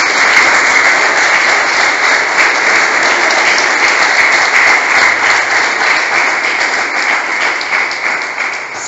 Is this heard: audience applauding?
yes